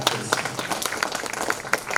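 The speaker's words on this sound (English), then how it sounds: "Let us give a big hand, big applause for his success" Applause from a festival audience at an art and literature event, a short burst of scattered hand claps, fairly close and unevenly rhythmic, with no clear voices over it.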